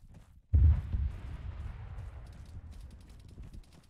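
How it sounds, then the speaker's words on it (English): A rocket launch and blast in the military shooter Arma 3: a sudden heavy boom with a deep rumbling tail that slowly fades over several seconds, with faint scattered crackles. "That's a rocket."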